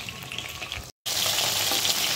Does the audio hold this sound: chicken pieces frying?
yes